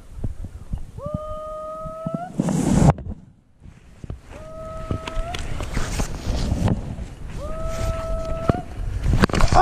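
Several hunting hounds on a rabbit trail in Kansas bay in long drawn-out howls, three separate bursts with pauses between, heard outdoors over wind and rustling.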